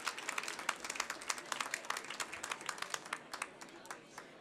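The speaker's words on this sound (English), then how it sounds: "Round of applause." Scattered applause at an innovation competition grand finale after a team's pitch, a modest number of hands clapping in quick irregular claps, fairly faint and tapering off toward the end.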